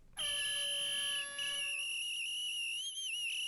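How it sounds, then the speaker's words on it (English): A shrill, piercing dog whistle tone sounds steadily for about three seconds, loud and sustained with a slight wavering pitch, no voices. "Dog whistle. Right there. Oh, is that loud?"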